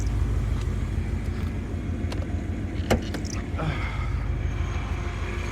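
A supercharged Ford Mustang GT engine runs with a loud blower, a steady close rumble with a constant whine layered over it and a few faint clicks.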